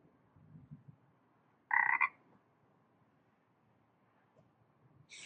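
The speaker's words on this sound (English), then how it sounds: "This year we've got what they call the bog frog." A short frog-like croak chirps out once, fairly loud against near silence, followed later by a brief higher electronic blip, played as a Rivian vehicle's Halloween-mode lock sound.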